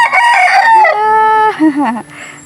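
A rooster crows a single loud, close cock-a-doodle-doo, a strained rising and falling call about two seconds long that trails off into a brief throaty finish.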